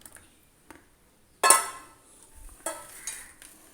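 Malabar-style fish curry with tamarind water poured in and stirred, a sudden splashing pour followed by softer clinks and scrapes of a utensil against the pot, close and quiet otherwise.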